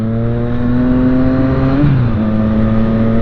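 A motorcycle engine drones loudly and close with a steady harmonic tone, then dips sharply in pitch through a gear change before settling back into an even run.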